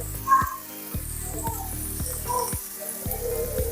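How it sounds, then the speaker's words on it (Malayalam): Onion, ginger and green chilli sautéing in a pan on a home kitchen stove, a soft, steady sizzle close by with a few faint clinks and light stirring sounds. "അങ്ങനെ സവാളയും ഇഞ്ചിയും പച്ചമുളകും എല്ലാം കൂടി നമ്മൾ ഇങ്ങനെ വഴറ്റിക്കൊണ്ടിരിക്കുക"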